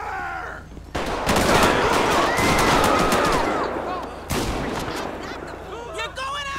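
Shotgun fire in GTA V LSPDFR, a loud sustained volley of blasts with a second sharp burst later, while voices talk over the shooting.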